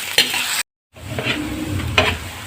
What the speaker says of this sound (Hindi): प्याज हमारे फ्राई हो चुके